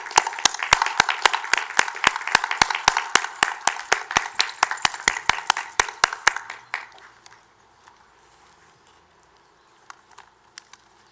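Applause for honored guests and retiring faculty at a university honorary degree and retirement ceremony: a dense burst of hand claps from a seated crowd that stops abruptly, leaving a quiet hall with a few scattered late claps.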